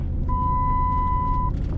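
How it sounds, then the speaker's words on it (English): A steady electronic warning tone sounds continuously for about a second over a low, rumbling engine idle, like a car's brake chime. "That's my brake dinging."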